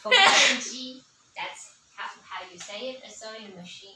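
A single sharp, loud sneeze bursts out close by, followed by a person speaking in a measured, explanatory tone.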